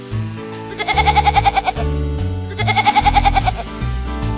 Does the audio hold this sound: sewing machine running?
no